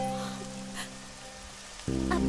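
Steady rain falling, a soft continuous hiss across the scene with a low musical drone underneath, fairly faint and without talk.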